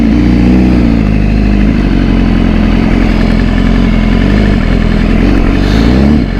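A BMW S1000RR motorcycle engine runs loud and close, holding a steady, throbbing idle with only slight rises in pitch throughout.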